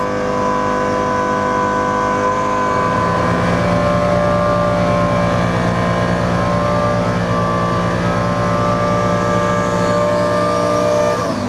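A twin-turbo E85 Lamborghini Superleggera engine holds a steady loud drone on a dyno, its tone shifting slightly partway through and rising gently toward the end.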